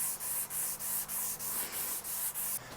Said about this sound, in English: I can clean that up with a little sandpaper. So this is 360 grit right here.